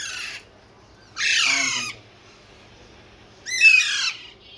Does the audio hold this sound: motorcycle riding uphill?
no